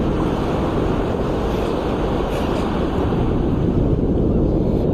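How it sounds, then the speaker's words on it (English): Heavy wind roars steadily inside the VRChat video game, a loud, continuous broadband rush with no letup and no talking over it. "It's like the heaviest wind I've heard."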